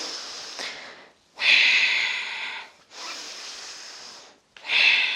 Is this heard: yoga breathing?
yes